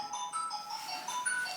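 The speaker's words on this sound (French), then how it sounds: "C'est la sonnette." A doorbell chiming inside a house, a faint electronic tone of several sustained notes running steadily throughout.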